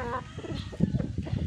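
A gamefowl rooster gives a short run of low, close clucks on a farm, with a brief higher call at the start, and no talk.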